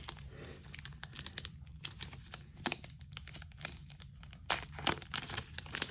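Foil Disney 100 trading card pack torn open up close, sharp crinkling and ripping bursts in quick irregular succession with no talking.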